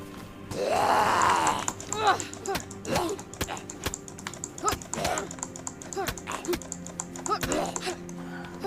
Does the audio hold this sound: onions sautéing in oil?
no